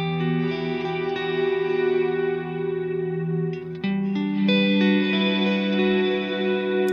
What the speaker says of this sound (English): at 500, it's like a delay pedal. You're gonna hear the copy afterwards.